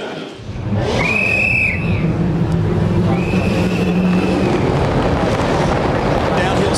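Supercars race cars pull away at the start of a race, a loud, dense wall of engine roar with rising whines from passing cars, close and continuous.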